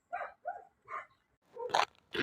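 Young stray puppies give a handful of short whimpering yelps in quick succession, each close and fairly loud, with a brief pause before two sharper cries.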